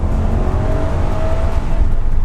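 A loud, steady Maserati engine rumble heard from inside the car with the back windows down, running continuously and deeply throughout with no break.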